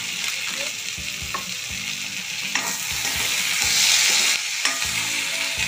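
Paneer chilli sizzling loudly in a pan with soy sauce added, steady frying hiss broken by sharp spatula scrapes and taps as it is tossed, close and continuous.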